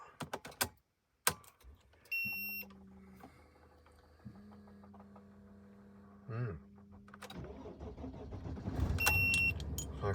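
A van starting after sitting unused through the off season: clicks and a key turn, then a cranking whir in two long stretches before the engine catches and settles into a steady idle close by.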